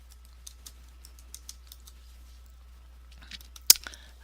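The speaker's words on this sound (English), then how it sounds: "I'm not going to use Excel, we'll just type it in." Scattered keystrokes on a computer keyboard as numbers are entered: sparse, quiet clicks spaced out over a few seconds, then a tight burst of sharper taps with one louder key strike near the end, with no talking.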